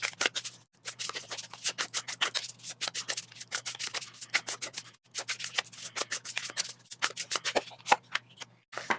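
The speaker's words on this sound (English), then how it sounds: "So let's shuffle and see what is the theme for the week ahead." Large tarot cards are shuffled by hand close up in quick, rhythmic bursts of papery riffling and rubbing, grouped into runs with short pauses between them.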